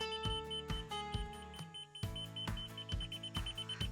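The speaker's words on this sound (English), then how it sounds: "That fast beep means you're right on it." A laser level receiver at a patio pour site emits rapid, steady electronic beeps, a bright repeating tone pulsing several times a second, close and unbroken, with no talking.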